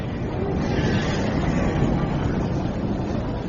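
Dense, steady rumbling wash of a vast underground New York city from a radio drama of Isaac Asimov's The Caves of Steel, a constant roar of crowd and machinery with no distinct events.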